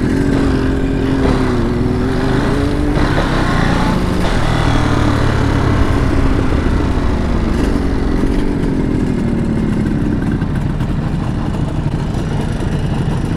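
A Kawasaki H1 500 two-stroke triple motorcycle, orange and smoking, runs close by with a loud raspy buzzing idle that blips and wavers in pitch before settling into a steady, rattly drone.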